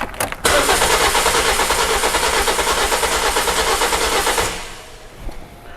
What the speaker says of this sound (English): I'm just gonna crank the engine again